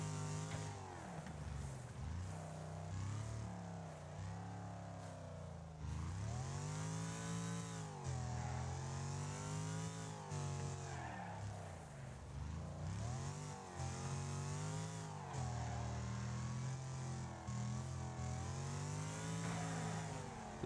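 Racing car engines roar continuously in the Wreckfest racing video game, with rising and falling pitch as several cars rev and shift gears through a final lap, loud and steady throughout with no talk.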